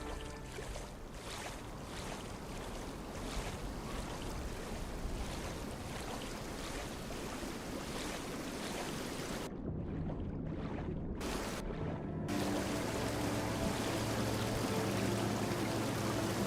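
A waterfall in the fantasy game Tainted Grail rushes with a continuous broadband roar of falling water, steady and fairly loud, briefly dropping out mid-way before resuming stronger and fuller.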